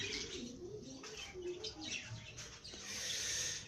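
A pair of king-size exhibition budgerigars chirps and warbles continuously at close range, with soft cooing and chatter and some wing flutter, the calls rising in brightness toward the end.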